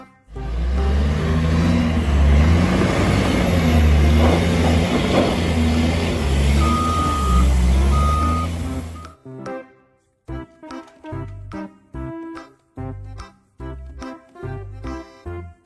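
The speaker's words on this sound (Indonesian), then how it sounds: "Mobil loader." A toy loader truck's motor whirs loudly with fluctuating engine-like sound, then cuts out and gives way to a series of short, evenly repeated electronic beeps like a reversing alarm.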